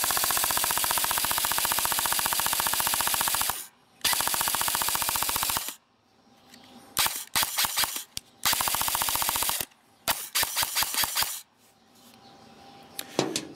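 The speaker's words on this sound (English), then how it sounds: "See how I can do absolutely anything with this trigger, and it just keeps firing." An airsoft gun fitted with an AWS Stealth MOSFET running on a low-power battery fires in long full-auto bursts, then short rapid trigger pulls, loud and close with brief silences between strings.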